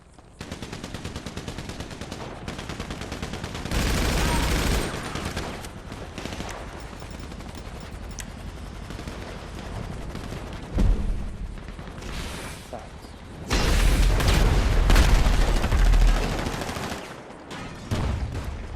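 Bursts of automatic gunfire in GTA Online, loud and close, with heavier sustained volleys around the middle and end, interleaved with a player talking over the action.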